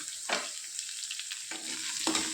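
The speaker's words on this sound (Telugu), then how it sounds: "తర్వాత కొద్దిగా పచ్చిమిర్చి కూడా వేసుకుందాము అంతా ఒకసారి కలుపుకోవాలి" Onions and green chillies fry in a pan for a punarnava leaf dish, a soft steady sizzle punctuated by three distinct stirring scrapes spread across the moment, with no voices.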